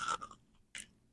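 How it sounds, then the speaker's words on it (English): Food is chewed close to the mouth with two short crunchy bites separated by a brief pause, faint and without speech. "hear that crunch?"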